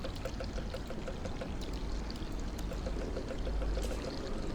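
Steady water pouring in the puzzle game Machinarium, a continuous splashing flow that holds an even level for the whole stretch with no talk over it.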